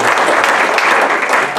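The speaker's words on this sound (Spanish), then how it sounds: "Démosle otro aplauso" Church congregation applause, a loud, dense, continuous wash of many hands clapping close by throughout the brief moment.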